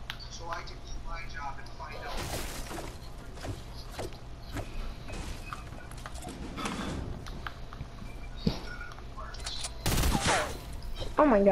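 Gunfire in the video game Fortnite during a squad match, with scattered sharp cracks and clicks, one loud burst near the end, heard over steady game noise and players talking.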